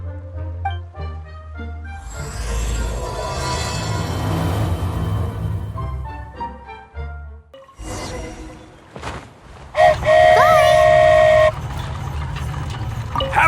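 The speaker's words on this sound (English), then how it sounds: "Wow, a train ride over the sea?" Train ride over the sea in Genshin Impact, with a steady rumbling rush under layered game music, whooshing passes and a sustained tonal horn-like blast near the end.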